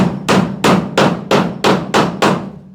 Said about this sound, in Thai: สว่านยิงก่อนมันจะตอกง่าย